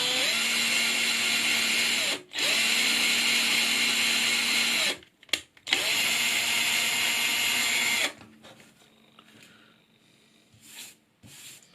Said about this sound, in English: drill a hole in the project box lid so the cables can come through